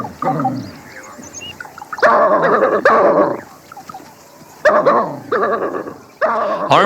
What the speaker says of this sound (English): Effective as the hunting dogs are, their fortunes can change quickly.